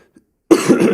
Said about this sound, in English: I'm going to apologise for the coughing